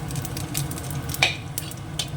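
Dry chillies and cumin seeds sizzle hard in hot oil in a wok, a steady close crackle with a few brighter pops and spits throughout.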